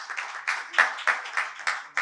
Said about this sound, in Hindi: इनके लिए भी एक बार तालियां बजा दें जो बहुत दूर से आए हैं